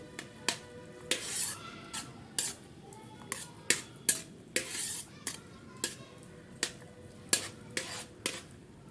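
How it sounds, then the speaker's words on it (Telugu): Food fries in a pan while being stirred, with a soft sizzle underneath repeated sharp metal clinks and scrapes of a utensil against the pan, coming at a fairly regular rhythm. "ఇప్పుడు చేస్తున్నాను ఇది ఫ్రై."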